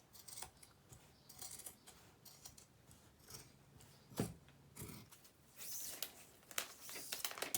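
Scissors snipping through denim while cutting an upcycled skirt from a jean jacket, a series of quiet, close crunchy cuts spread irregularly across the passage with small handling rustles between them.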